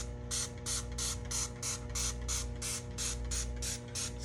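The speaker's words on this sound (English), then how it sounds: "I'm just gonna spray it on there." A trigger sprayer fires about a dozen quick, evenly spaced hissing spritzes of dish soap spray, close up, with a faint steady hum underneath.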